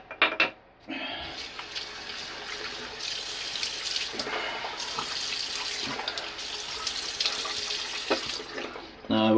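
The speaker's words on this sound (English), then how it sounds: "Let me wet my face real quick." Tap water runs steadily into a sink as someone wets their face before a shave, a continuous splashing wash that lasts throughout, broken by a few brief louder splashes near the start and end.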